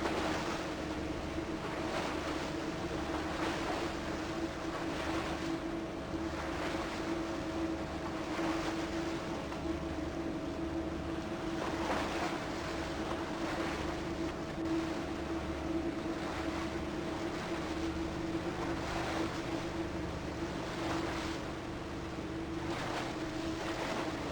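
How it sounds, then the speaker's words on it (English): Steady rumble of a boat motoring across open sea off New Zealand's North Island, with wind and wave wash running continuously underneath, no voices. "we sailed our boat through several of the impressive arches"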